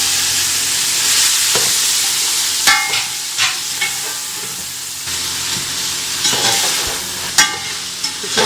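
Chicken fries in a pan as peas are added: a loud, steady sizzle and hiss with scraping and stirring clatter now and then, and no talking.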